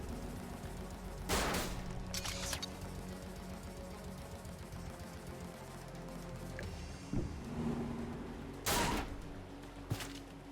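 Sci-fi weapon fire from the strategy game Age of Wonders: Planetfall, with a few loud blasts, one near the start and a pair near the end, over a steady low battle ambience and no talking.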